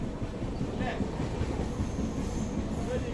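Inside a moving Kochuveli–Bangalore passenger train 16316, a steady, continuous rumble of wheels and carriage fills the space, with faint murmuring in the background.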